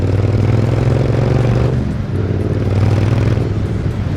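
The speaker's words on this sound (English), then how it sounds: "I'll just open this up ever so quickly to see if you can hear this." A Triumph Bonneville T120 motorcycle with Norman Hyde exhaust cans revs loudly and close, a deep throaty drone that dips briefly then climbs again, with no talk.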